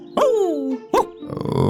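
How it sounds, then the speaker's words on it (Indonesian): A dog gives two sharp barks followed by a whining, yelping call, close and loud with brief gaps between. "ia berhenti dan menggonggong tanpa henti"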